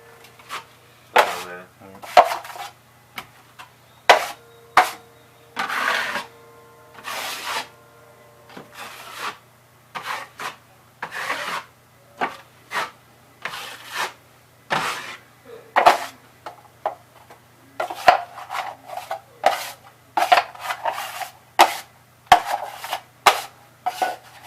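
A 12-inch coating knife spreads hot-mix drywall mud over a wall patch, producing repeated scraping strokes in an irregular rhythm, close up with a low steady hum underneath.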